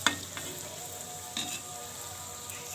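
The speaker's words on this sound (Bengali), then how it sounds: "এই দেখুন এইভাবে হাতে করে নিয়ে আমি ফুচকাগুলো গরম তেলের মধ্যে দিয়ে দিয়েছি" Fuchka puris frying in hot oil and being stirred with a spoon, a steady bubbling sizzle with a couple of brief clinks and scrapes from the spoon against the pan, no speech.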